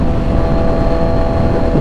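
A fast motorcycle on an expressway gives a loud, steady engine roar mixed with heavy wind rumble, close and continuous through the whole moment.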